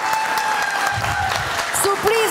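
Steady applause from a television studio audience at an Albanian music show night, clapping continuously throughout with faint tonal music and a voice speaking underneath.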